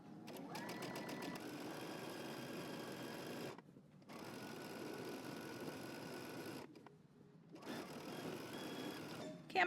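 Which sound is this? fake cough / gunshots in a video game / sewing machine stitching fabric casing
sewing machine stitching fabric casing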